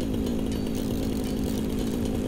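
A chainsaw in the video game Satisfactory runs steadily and loudly throughout, a dense continuous motor drone with no pauses and no voices.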